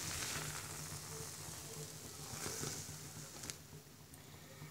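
Egg pantua pitha, a Bangladeshi layered egg cake, sizzles as it fries in hot oil, giving a steady close crackle and hiss that softens slightly near the end with no one speaking.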